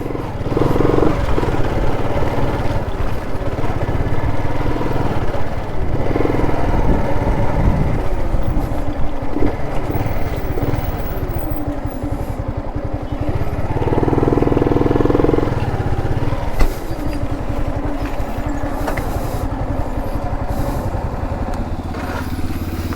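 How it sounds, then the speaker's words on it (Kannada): A motorcycle engine idles steadily while being parked at a temple parking area near Iruppu Falls in Coorg during the monsoon, a loud, continuous close rumble with small throttle changes and a sharp click near the end. "ಸೊ ಫಸ್ಟ್ ಬೈಕ್ನ ನಿಲ್ಸೋಣ."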